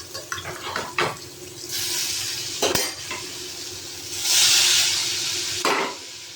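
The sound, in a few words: stirring pointed gourd paste and boiled potato in oil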